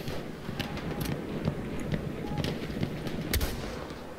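Bolt-action sniper rifle fire in the Battlefield 1 open beta, several sharp, spaced shots cracking over a busy battlefield din, some near and loud, others fainter.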